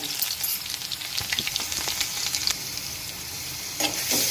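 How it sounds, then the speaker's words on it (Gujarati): Coarsely crushed garlic sautéing in a pan as a gourd and tomato curry is cooked, crackling and sizzling steadily close by, with scattered stirring scrapes and spits and no voices. "આપણે લસણને સાંકળી લેવાનું છે"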